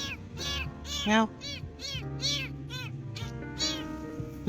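A small kitten found along a road home from fishing meows again and again, close and clear, its high, bending cries coming in quick succession while a person's voice calls softly alongside.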